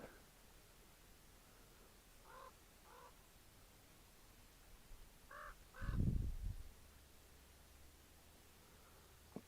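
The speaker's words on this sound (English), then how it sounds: "There's some crows around." Crows caw off-trail in desert mountain country, a few hoarse calls in pairs at a moderate distance over a quiet hiss of wind, followed by a close rustling thump.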